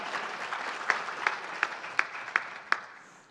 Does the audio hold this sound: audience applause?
yes